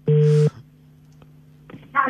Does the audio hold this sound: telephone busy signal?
yes